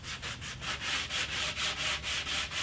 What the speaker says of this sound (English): I finished sanding this entire thing